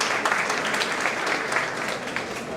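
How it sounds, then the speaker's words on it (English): An audience at a tech fireside chat and open pitch session claps steadily and evenly throughout, a continuous wash of applause with no speech over it. "Guys, a round of applause."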